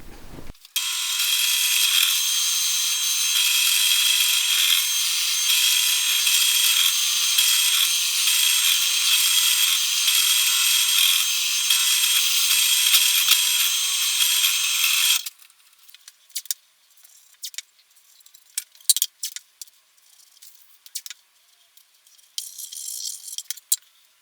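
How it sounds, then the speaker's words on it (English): A pillar drill with a large Forstner bit bores waste wood from a Telecaster guitar body, giving a loud, steady high-pitched whine for about fifteen seconds, then falling to scattered clicks and handling noise. "we'll take this to the pillar drill and hog out the bulk of this waste with a nice big"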